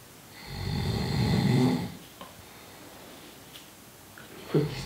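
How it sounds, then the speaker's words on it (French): A sleeping person snores once, a long, deep, rumbling breath up close, then quieter breathing and faint rustles follow. "J'ai des vidéos quand tu ronfles."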